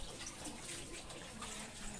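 Water runs and splashes continuously as someone washes, a soft, steady hiss and patter at a low level, with no voices.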